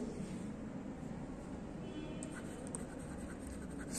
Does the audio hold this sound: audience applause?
no